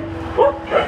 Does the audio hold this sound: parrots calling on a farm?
no